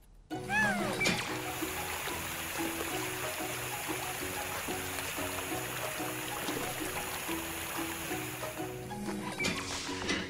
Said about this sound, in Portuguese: O jato de água deve suavizar isso um pouquinho.